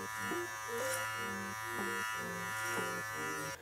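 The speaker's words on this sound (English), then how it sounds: "You will start to hear the blades hitting your hair and cutting your hair." A Beard Club PT45 electric beard trimmer buzzes steadily and quietly up close, its tone shifting slightly as the blades cut through beard hair. No one talks.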